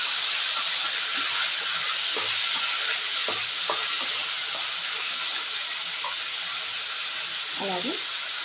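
Cucumber chutney ingredients with onions stirred in a hot pan, giving a steady loud hiss and sizzle with scattered soft scraping clicks of the spoon.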